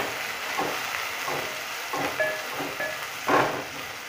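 A finely chopped medium-sized tomato fries in a pan with onion, giving a steady sizzling hiss with gentle swells of stirring and no talking.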